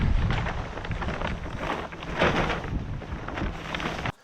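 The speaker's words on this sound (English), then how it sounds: "You already see how windy it's getting." Strong, steady wind from an approaching storm gusting and roaring across the microphone, with a rough buffeting rush that swells slightly midway; no voices.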